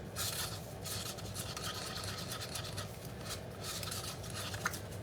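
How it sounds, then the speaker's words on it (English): A stick stirs liquid in a cup and scrapes its sides, a steady soft rasping and rubbing that continues without pause, close and fairly quiet. "So we're just gonna kind of stir this. Scrape down those sides,"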